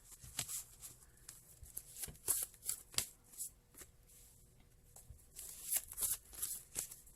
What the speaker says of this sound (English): One more shuffle, they say.